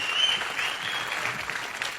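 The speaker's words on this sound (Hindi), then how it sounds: "जोरदार तालियां हो जाए अनुष्का के लिए" A studio audience on a comedy show breaks into steady applause for a guest, an even, dense patter of many hands that holds at moderate loudness for the whole stretch.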